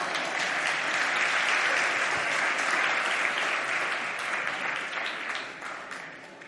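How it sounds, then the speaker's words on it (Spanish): Sustained audience applause fills a hall at a Spanish-language Christian talk event, a dense, steady wash of many hands clapping that fades slightly toward the end. "Un aplauso para ella."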